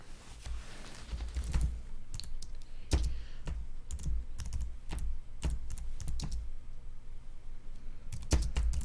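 Typing on a computer keyboard, close and fairly loud, irregular bursts of clacking keystrokes separated by short pauses, no talking.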